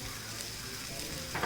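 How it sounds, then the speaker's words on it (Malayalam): Egg puff masala with tomato ketchup is stirred in a hot pan, giving a soft, steady sizzle with a brief scrape of the spoon near the end, quiet and close. "നമുക്കിതൊന്ന് ഇളക്കി കൊടുക്കാം"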